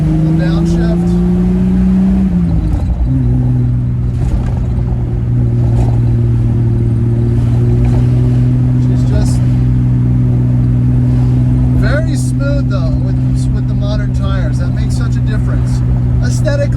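Triumph TR6 engine downshifting while driving, a loud close steady drone whose pitch drops sharply as the gear changes, then holds a lower rumble, with a person talking over it.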